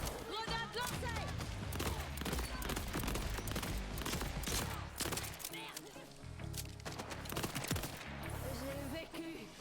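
Pistol gunfire in Borderlands 4, with rapid repeated shots amid dense game effects and music under continuous excited talking.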